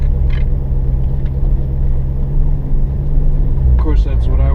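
A car cruising slowly around a residential neighborhood, heard from inside the cabin, with a steady low engine and road rumble throughout and someone talking over it.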